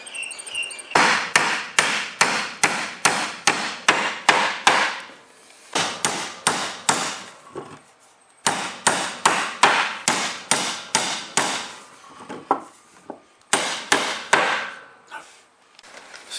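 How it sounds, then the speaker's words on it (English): Sharp, loud hammer blows drive nails into a wooden box frame in quick rhythmic bursts of about eight to ten strikes each, with short pauses between bursts and a few lighter taps near the end. "So now all we have to do is just nail it together."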